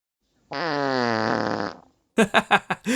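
A voice imitates a long, buzzing fart noise, the kind Alucard would make turning into poisonous mist in Castlevania: Symphony of the Night, held for over a second, then followed after a pause by a few short, chopped bursts.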